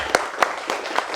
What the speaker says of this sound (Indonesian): Itu tadi dari kelompok 5, kita kasih aplaus dulu.